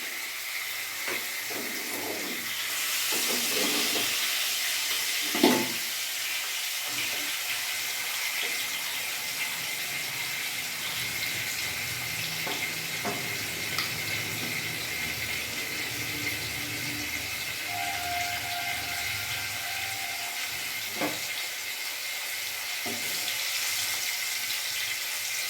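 Pieces of rohu fish fry in oil in a pan over a medium gas flame, giving a steady soft hiss with a few scattered pops and crackles, close and fairly quiet, with no talking.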